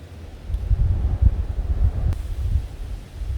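Wind blows outdoors around a high hunting tree stand during a muzzleloader opener, a steady low rumbling gust that swells and fades, buffeting the microphone, with a faint faraway knock partway through.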